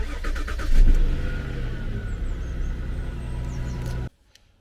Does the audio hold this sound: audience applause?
no